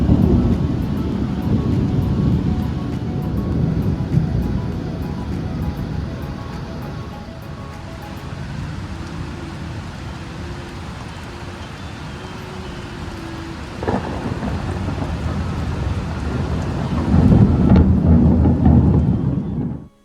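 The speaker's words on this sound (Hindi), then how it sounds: "अचानक से इतनी तेज़ बादल गरजने लगे ना" Thunderstorm with heavy, steady rain and deep rolling thunder building loudly near the start and again toward the end, with a sharp crack partway through; no talking.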